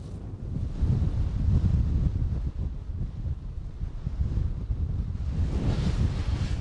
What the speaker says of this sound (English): that wind is just battering me right in the face now